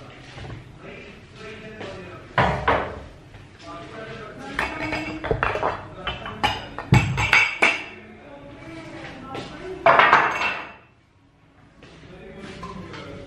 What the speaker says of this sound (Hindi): तो अभी मैं बर्तन लगा रही हूँ